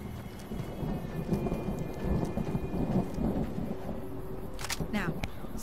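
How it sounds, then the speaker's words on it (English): Thunder rolls across a rainstorm in a video game, with steady rain hissing throughout and deep rumbles swelling and fading, fairly loud and continuous. "Oh, looks like we've got a thunderstorm coming over."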